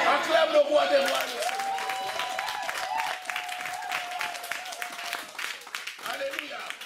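A church congregation applauds and acclaims God after a French sermon, with dense clapping, cheering and shouted voices filling the space throughout.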